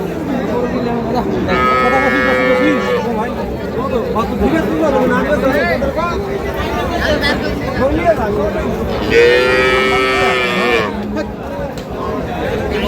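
Dairy cows of Sahiwal, Sindhi and local breeds, some with calves, at a livestock market; two long, loud moos rise over steady crowd chatter and nearby voices talking.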